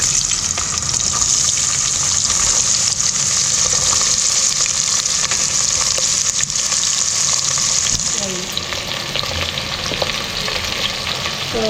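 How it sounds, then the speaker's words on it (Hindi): Onions fry in a pan during a village mutton curry, a loud steady sizzle up close that softens slightly toward the end, with faint stirring. "तापरे जो पियाज सब कटाई से पका हम।"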